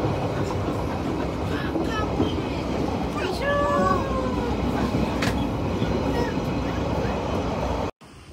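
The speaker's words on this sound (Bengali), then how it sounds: "ট্রেন থেকে আমরা নামলাম অ্যালপাটন বলে একটা স্টেশনে।" A train rolls along at speed with a steady rumbling clatter and a brief high wheel squeal midway, then the sound cuts off abruptly near the end.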